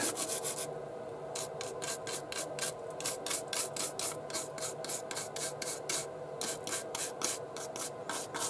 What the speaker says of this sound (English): the toothbrush will actually rub off some of the paint too